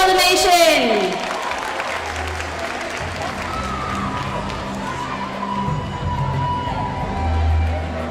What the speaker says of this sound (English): So let us clap loudly to show our love for the nation.